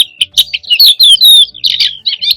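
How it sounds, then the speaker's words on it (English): A crested lark sings a quick, bright run of chirps, trills and whistled notes, loud and close with short gaps, with no other sounds. "Bird number 4, crested lark."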